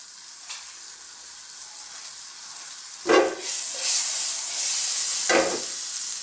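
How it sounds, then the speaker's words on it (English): Butter with dried sage sizzling in a pan over fairly low heat, a steady close hiss of frying that swells with sharper crackling bursts partway through. "This is on a fairly low heat, or we'll just burn the butter."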